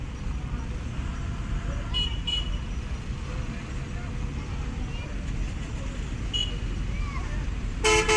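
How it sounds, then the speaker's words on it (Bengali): Busy road traffic with cars and motorbikes moving through a jam-prone stretch, a steady roadway rumble with a few short horn toots scattered through and a louder honk at the end. "এই তো এখন যাইতেছে কিন্তু গাড়ি যাওয়া শুরু হয়ে গেছে"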